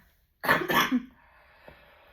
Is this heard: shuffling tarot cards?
no